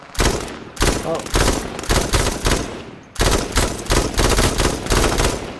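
Bursts of rapid automatic gunfire in H1Z1 crackle loudly in rhythmic volleys, with a short pause midway before firing resumes; a voice briefly exclaims over the shooting.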